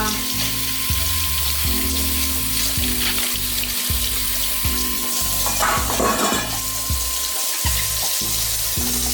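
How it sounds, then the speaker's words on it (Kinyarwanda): Onions are washed in running water, with a steady rush of tap water and splashing over a constant backdrop of rhythmic music. "Ibitunguru byacu byoza neza."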